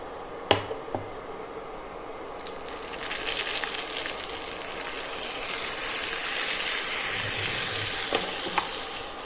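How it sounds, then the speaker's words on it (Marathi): Hot oil tempering with curry leaves is poured onto curd for oats dahi vada. After a couple of light clinks, a sudden sizzle rises and continues steadily up close. "आता ही जी फोडणी आहे ती आपण आता दह्यावर ओतून घेऊया"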